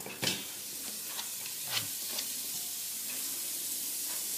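Onions sizzle steadily in a hot pan for a rougail-style sausage dish, a continuous close frying hiss with a few faint clicks and stirring taps, and no voices.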